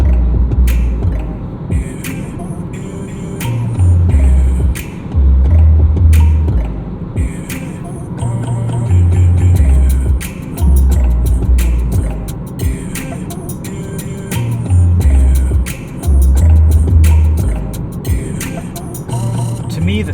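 Music from a soundtrack test plays through the audio system of a 2019 Toyota Corolla XSE Hatchback, with a strong, pulsing bass beat and busy upper detail, loud and steady inside the cabin.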